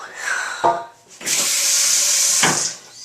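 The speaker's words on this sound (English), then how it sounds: "I turned on the water" A tap in a dorm bathroom sink runs in a steady, close hiss, with a couple of sharp knocks and handling sounds as it is turned on and off.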